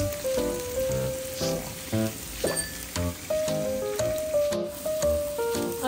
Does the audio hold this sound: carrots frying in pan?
yes